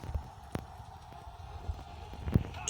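Horse hoofbeats in the video game Steel and Flesh 2, heard as a few sparse, soft clopping thuds over a low ambient bed, fairly faint throughout.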